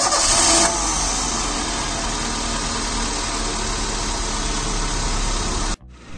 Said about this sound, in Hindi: इसकी इंजन बिल्कुल रंबल कर रहा है और आपको पूरी आवाज़ आ सकती है इसकी